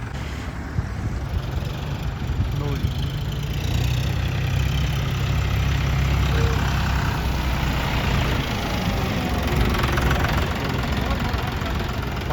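A 45 hp John Deere tractor engine idles nearby with a steady, fairly loud low rumble that holds evenly throughout, without pauses.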